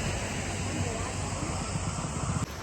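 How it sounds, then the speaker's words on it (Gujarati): The Gira waterfall pours with low, off-season flow, a loud constant roar of water that stays even throughout, with faint voices in the background. "અત્યારે ચોમાસું નથી એટલે પાણીનો ધોધ ઓછો પડે છે"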